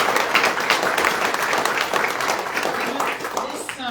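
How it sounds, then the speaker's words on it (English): A crowd at a veterans wall ceremony breaks into dense, sustained applause, many hands clapping loudly and close for a few seconds before it begins to thin out, with some voices underneath. "let's have another hearty round of applause"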